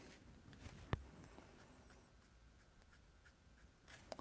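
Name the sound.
Copic marker colouring on paper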